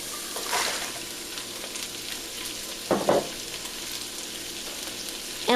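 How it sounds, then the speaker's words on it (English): Asian water spinach (ong choy) stir-fries in a hot pan, giving a continuous, moderate sizzle with brief louder crackles and stirring scrapes near the middle and end. "And we can turn up the heat a little bit and let that stir fry."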